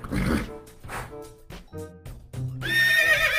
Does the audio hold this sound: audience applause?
no